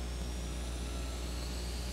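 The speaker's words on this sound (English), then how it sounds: "All right, the jet refires." The jet engine of a jet-powered drag race car refires and spins up with a steady, dense roar at moderate distance, with no other sounds.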